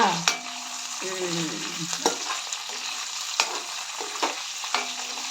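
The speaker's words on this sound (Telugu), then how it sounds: "బాగా ఫ్రై చేయాలి" Chicken curry ingredients fry and get stirred in a pan, with a steady sizzle throughout and sharp spatula scrapes and clinks at intervals, close and fairly loud with no talking.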